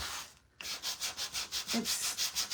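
Worn sandpaper rubs on a wooden craft piece for a scarecrow and sunflower kit, with a rhythmic back-and-forth rasp of about a dozen even strokes, close and steady after a short pause.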